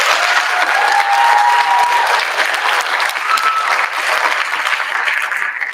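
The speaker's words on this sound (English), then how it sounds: "Can we give them one more round of applause" A high school concert audience gives choir students a loud, sustained round of applause, dense clapping filling the hall without pause.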